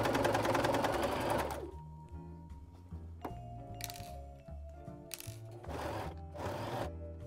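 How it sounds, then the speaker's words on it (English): A sewing machine stitches a seam on a dress shirt in bursts: a rapid buzzing run opens, followed by quieter clicks and handling noises, then two more short stitching bursts, close and alone. "So just slowly start removing those needles. And you're gonna keep sewing."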